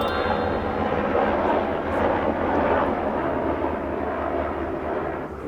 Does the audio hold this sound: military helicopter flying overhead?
yes